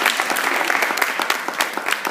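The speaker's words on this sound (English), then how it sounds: "Let's give her an extra round of applause" Audience applause at a Somerville High School arts honor society ceremony: a dense, steady wash of many hands clapping together, held at a fairly even level throughout with no talking.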